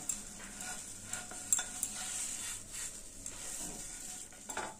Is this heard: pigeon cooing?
no